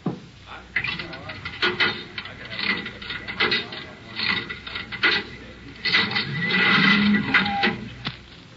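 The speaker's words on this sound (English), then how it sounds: "Do you have some change for the cigarette machine?" Mechanical clunks and ratcheting from a cigarette vending machine in an old-time radio detective drama, a run of irregular clicks and thuds over several seconds heard beneath voices talking.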